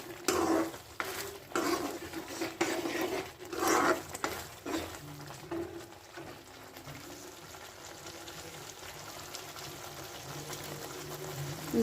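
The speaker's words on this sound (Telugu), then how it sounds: "ఇది బబుల్స్ వస్తున్నాయి" Capsicum tomato masala curry boiling in a pot, soft bursting bubbles and gentle patter, busier at first then settling into a quieter steady simmer.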